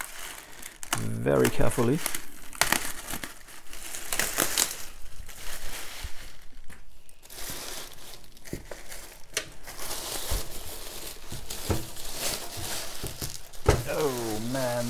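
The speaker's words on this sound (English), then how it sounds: "Let's try to cut this open" A package is cut open up close, with loud crinkling and tearing of plastic wrap, sharp cracks and rustles coming in bursts while someone talks over parts of it.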